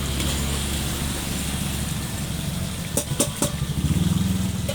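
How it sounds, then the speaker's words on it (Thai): Rumbling road traffic in Krathum Baen, Thailand, with engine drone close by, steady vehicle noise building toward the end, with a few sharp clatters mixed in. "นี่เสียงรถเนี่ย"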